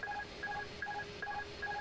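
An electronic telephone rings in a rapid two-tone warble inside an Airbus A310 flight simulator, repeating in five short evenly spaced bursts, moderately quiet and with no talking.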